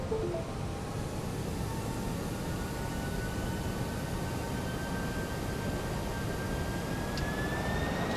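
Twin jet engines of a ToLiSs A321 airliner in the X-Plane 12 flight simulator rise as a steady broadband roar with a slowly climbing whine, continuous and loud throughout, no voices.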